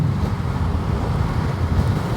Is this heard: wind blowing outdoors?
yes